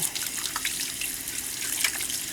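Hands get rinsed under a running tap, a steady close hiss of water splashing into a sink with small uneven spatters throughout.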